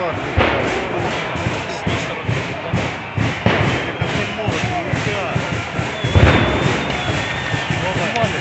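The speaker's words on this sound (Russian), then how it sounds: "Нет, петарды, петарды." Sharp cracking firecracker bangs burst in irregular succession, loud and close, over a noisy crowd with voices shouting throughout during street clashes in Mariinskyi Park, Kyiv.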